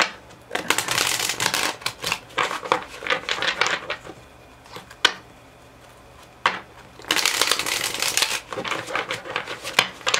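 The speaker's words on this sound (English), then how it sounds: "I just spent all that time shuffling" Tarot cards are shuffled up close in repeated riffling bursts, crisp rapid flutters separated by short pauses and a few soft taps.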